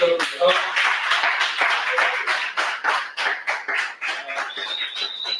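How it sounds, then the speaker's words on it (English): An audience at a live comedy show claps, sustained applause rolling for several seconds, with speech mixed in. "just want to hear another round of applause"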